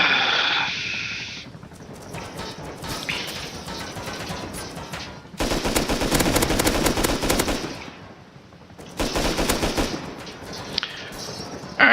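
Rapid bursts of LR rifle gunfire in the Rust video game, fought solo against a helicopter, loud and dense fusillades in several long stretches separated by quieter gaps with scattered shots.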